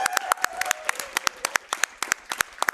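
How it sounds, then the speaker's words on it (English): Scattered hand claps ring out at a speedrun marathon, sharp and distinct at an uneven rhythm, a small group applauding with a faint tone lingering underneath. "give them a round of applause too."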